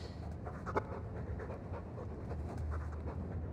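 A dog in the video game Dragon Age II pants quickly and rhythmically at close range over a low background hum, with no voices.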